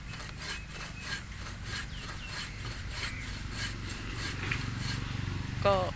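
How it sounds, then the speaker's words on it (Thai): Rhythmic back-and-forth rasping of a hand saw biting into the base of a freshly dug Barringtonia tree trunk, steady and close, with a brief squeaky sound near the end. "เราก็จะมาเลื่อยตัดแต่ง โคนมันนะคะ"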